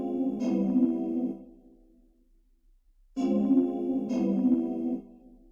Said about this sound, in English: Moving on, we got the synths, and it sounds like this.